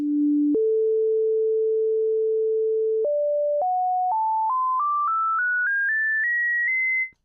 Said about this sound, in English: here we still have the sine wave, a sine wave as the basic waveform